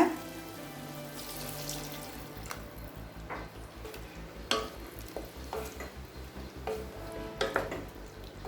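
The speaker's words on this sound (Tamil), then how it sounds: "அடுத்தது 1 கப் தண்ணி சேர்த்துக்கலாங்க." Water is added to a pan of meal maker gravy, a cupful poured in with a splashing rush over a low sizzle, followed by stirring clatters. There are no voices.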